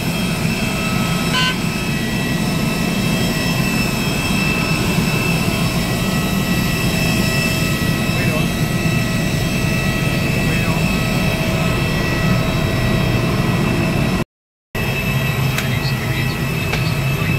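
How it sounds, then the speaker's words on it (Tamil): Jet airliner engines drone at Da Nang airport before a flight to Hanoi, a loud, steady roar with whining tones that holds throughout, broken only by a very brief dropout. "நம்ம ஃப்ளைட் வந்துருச்சு."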